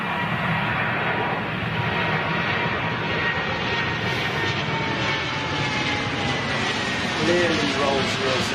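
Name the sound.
Dreamliner jet aircraft with Rolls-Royce engines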